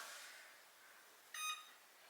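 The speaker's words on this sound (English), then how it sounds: "I'm going to set the timer" An oven timer being set gives a single short electronic beep, clear but quiet, over faint room noise.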